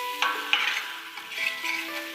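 Spices, salt and sugar being stirred in a pan for mattar mushroom, a spoon scraping and clinking in short strokes over a soft sizzle, close and fairly quiet.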